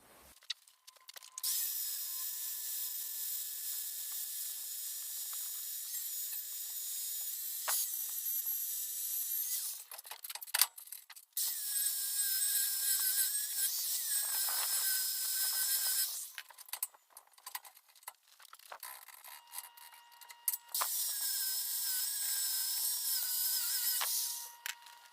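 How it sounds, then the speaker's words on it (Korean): A hand angle grinder works a steel welding test piece in long, loud hissing passes of a high whine, broken by short pauses between them, with no talking. "지금부터 그라인더 하는 영상을 한번 보여드리겠습니다"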